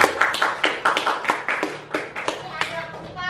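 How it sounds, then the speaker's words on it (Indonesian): Classroom applause for a student named Anissa, a short burst of rhythmic hand claps from a group of children, close and lively, with voices mixed in. "Kita kasih tepuk tangan kepada Anissa."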